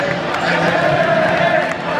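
Stadium crowd at the Juventus Stadium roaring and applauding for a Juventus player during a championship title celebration, a dense, steady wall of cheering with a commentator's voice running over it.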